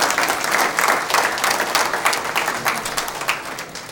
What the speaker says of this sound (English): please, let's do a round of applause for all the volunteers, for all the candidates this evening